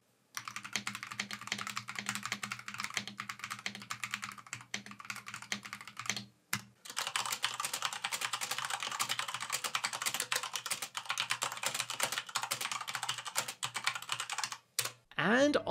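Rapid, steady clatter of typing on a gaming-oriented mechanical keyboard with smooth linear switches built in a Wing Gundam theme, continuous and close, with two brief pauses.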